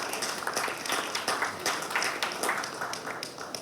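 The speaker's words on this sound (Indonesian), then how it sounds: "Tepuk tangan buat Argentina." Audience applause at an event about Argentina's national football team visiting Indonesia, a steady wash of many hands clapping with a few sharper claps standing out, moderately loud throughout.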